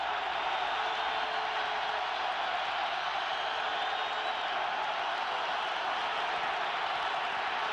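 Football stadium crowd at the 1990 Michigan at Ohio State game, a dense, continuous roar of cheering, steady and distant-sounding with no breaks.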